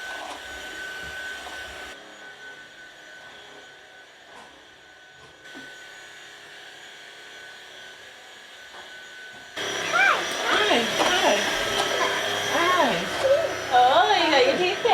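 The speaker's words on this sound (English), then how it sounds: "So I'm just going to quickly pop the hoover around." A vacuum cleaner hoovers upstairs during a whole-house clean, its motor a steady whining hum running throughout, with a person talking closely over it in the second half.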